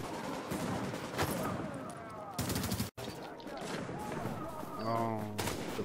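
Shotgun blasts and other gunfire in a co-op video game crack through a busy mix, with several loud bursts under excited talking from players.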